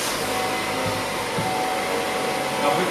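A 2018 Chevrolet Traverse RS just started up gives a steady, loud, close whooshing running noise, even and unbroken throughout, with no voices.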